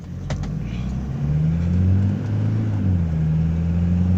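A car pulls away after being washed, its engine rumbling low and rising in a steady rev as it starts to drive, loud and continuous with no talking over it.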